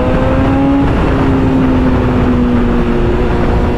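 A BMW S1000RR Pro motorcycle's exhaust revs loud and close, holding a steady engine note that dips briefly and climbs again, with no talk over it.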